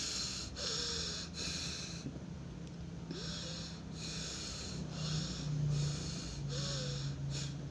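Nasal breathing practiced as a bansi flute technique, a series of close, loud breaths and snorts through the nose repeating at an uneven rhythm, with short pauses between them.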